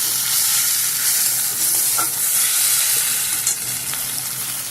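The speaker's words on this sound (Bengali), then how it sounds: "মশলাটাকে একটু ভালো করে তেলের সঙ্গে মিশিয়ে দিতে হবে" Spice paste is stirred and fried in hot oil for a Bengali fish curry, a loud, continuous sizzle with occasional scraping of the spoon against the pan.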